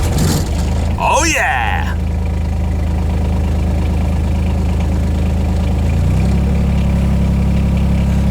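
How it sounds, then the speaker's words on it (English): A diesel digger engine cranks with a whining starter, catches after glow-plug heating and settles into a steady, loud low idle that deepens slightly near the end, with a brief excited voice over the start. "we'll get the digger fired up and we'll get into the garage"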